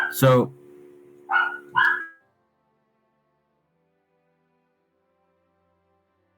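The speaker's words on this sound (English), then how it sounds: "You could probably hear my dog barking." A dog barks three times nearby in quick succession, sharp and loud, then silence follows.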